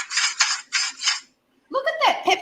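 A Sur La Table peppermill grinding pepper over cauliflower wings, with four quick bursts of gritty crunching, a short pause, then someone speaking over the kitchen.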